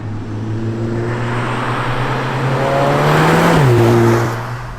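The 300 bhp engine of a Cupra Ateca SUV drones loudly and steadily, then its pitch climbs and dips as it revs harder, a close, continuous motor roar with no talking.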